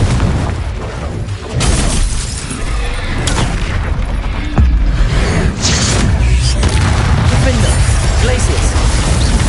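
Repeated booming blasting-spell explosions in the Hogwarts Legacy video game, loud and dense with whooshes and crashes over continuous combat noise, with voices calling out over the action.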